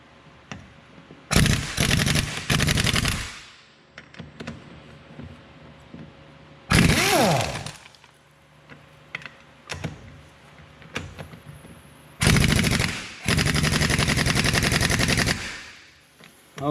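An impact wrench hammers at seized wheel lug nuts on a Kawasaki Mule utility vehicle in several loud, close bursts of rapid rattling, each lasting one to three seconds, separated by quieter gaps with faint clicks.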